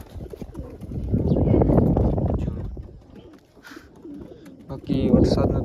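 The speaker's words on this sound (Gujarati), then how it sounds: "એટલે એટલા કબૂતર બેઠા ઉપર" Several pigeons coo in low, rolling bursts, fairly close and moderately loud, with a pause in the middle and scattered faint rustles and clicks.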